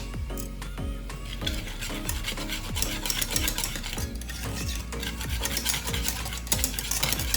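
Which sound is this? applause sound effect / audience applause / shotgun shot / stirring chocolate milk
stirring chocolate milk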